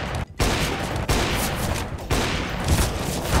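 Sustained rapid gunfire from a crouched shooter in a first-person shooter video game, dense and loud throughout with brief gaps near the start and around the one- and two-second marks.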